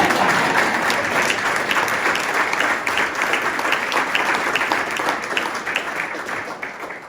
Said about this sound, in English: You can clap for